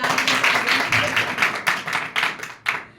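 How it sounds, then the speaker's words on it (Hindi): A small group claps together at a sisters' prayer gathering in Jhampur, a steady patter of hands in several quick bursts that fade and restart, with no talk over it. "आंटी के लिए ताली बजाओ भाई"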